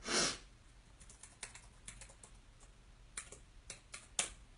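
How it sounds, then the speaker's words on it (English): Fingers typing a password on a computer keyboard, a quiet scatter of light key clicks in uneven bursts after a louder opening tap, close and alone without speech. "While I type in my password, you do that."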